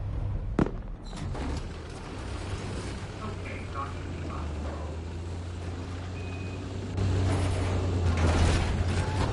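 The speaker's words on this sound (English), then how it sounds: "I gotta go save the stupid robot vacuum" A robot vacuum cleaner moves around a home, giving a steady mechanical whir and motor drone with small clicks and creaks that swell louder toward the end.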